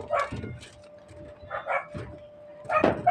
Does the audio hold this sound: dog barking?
yes